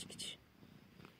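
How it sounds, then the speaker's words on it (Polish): A cat sitting on a terrace swing purrs softly and steadily close by, with quiet breathy sounds at the start and end. "jak on mruczy"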